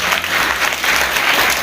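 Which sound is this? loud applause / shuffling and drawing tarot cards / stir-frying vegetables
loud applause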